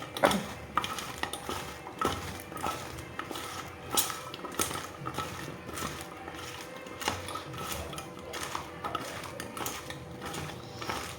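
Champaka pickle mixed by hand with salt, chili powder and turmeric, giving a busy run of soft squelches, scrapes and light clinks against the bowl, steady and close for the whole stretch with no talk.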